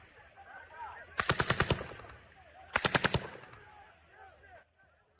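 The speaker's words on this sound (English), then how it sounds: "they could identify live ammunition, including machine gunfire, coming from the sites" Live machine gunfire rattles in two rapid bursts of about six to seven shots each, loud and sharp against a murmuring outdoor background with faint voices.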